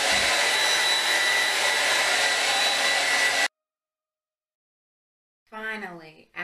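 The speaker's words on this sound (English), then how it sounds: "My final step to this process is gonna be to blow dry." A hair dryer blows on natural curly hair with a loud, steady whoosh for about three and a half seconds, then cuts off into silence before a voice speaks briefly near the end.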